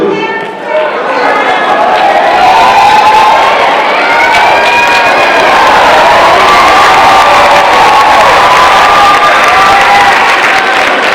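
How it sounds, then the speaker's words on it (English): Loud, sustained applause and cheering from a graduation ceremony crowd honoring a conference champion track team, with shouts and whoops rising over dense clapping throughout. "Give them another round of applause."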